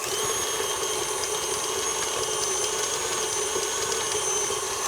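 Steady, close electric mixer whir beating Persian love cake batter, a continuous high motor hum with no talking over it.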